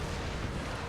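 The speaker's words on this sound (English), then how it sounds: "At this rate, I might even win the artillery duel" Cannon artillery fire in the strategy game Empire: Total War, a dense, loud rumbling barrage of booming shots blending into continuous thunder.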